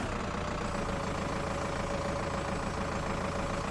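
A tractor engine in Farming Simulator 19 drones steadily and loudly throughout, an even mid-low hum with no clear rise or fall in pitch.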